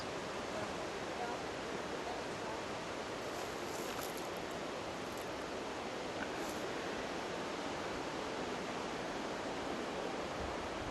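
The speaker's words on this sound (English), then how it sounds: "And some more waterfalls." Waterfalls along the Chilkoot Trail in Alaska make a steady, broadband rushing roar of falling water, continuous and even throughout without a break.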